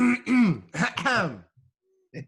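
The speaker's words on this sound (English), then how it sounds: "Let me clear my throat, as they say." A person clears their throat with several harsh, gravelly rasps close up, then a short pause and one final quick grunt.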